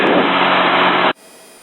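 A small bush plane climbs after takeoff, its engine and rushing air forming a loud, steady broadband roar that cuts off abruptly just past the midpoint, leaving near silence.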